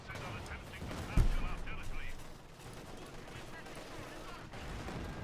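Gunfire and rifle-grenade blasts in Company of Heroes 2, with a sharp loud explosion about a second in over a steady rumble of distant shooting and battle noise.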